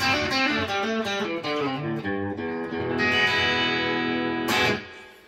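Electric guitar played through a Boss Katana amp with light grit and distortion, recorded straight to a phone; a steady run of sustained, harmonically rich chords and notes rings loud and close, ending with a bright strum that fades out.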